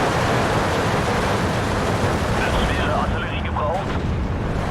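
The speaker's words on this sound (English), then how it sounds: "Heavy artillery." A heavy 210 mm artillery barrage in the World War II strategy game Steel Division 2 gives a dense, continuous roar of explosions and rumble that stays loud and unbroken throughout.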